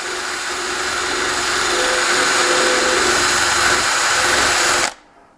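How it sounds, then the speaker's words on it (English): A small wire wheel on a power drill whirs steadily while scrubbing rust off the threads of a bolt end during a K20/K24 clutch install on an EP3/RSX, a loud continuous grinding buzz that cuts off abruptly near the end. "So I found even just a little wire wheel."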